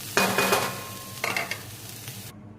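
Chili powder is stirred into keema frying in a pan, producing two close bursts of scraping and sizzling, then silence.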